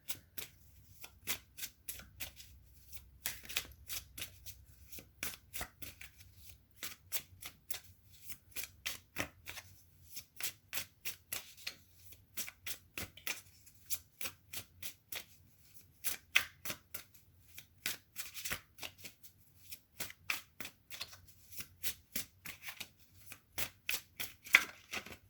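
A fairy oracle card deck shuffled by hand, producing quick close riffling bursts and soft flicks that repeat in uneven clusters throughout, quiet and alone without talk.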